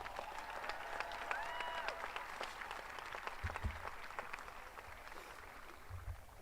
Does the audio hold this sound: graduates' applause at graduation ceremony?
yes